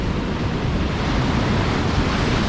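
Powerful ocean surf surging against rocks on an Australian shoreline while fishing, a steady loud roar of wash and spray filling the whole clip with no voices.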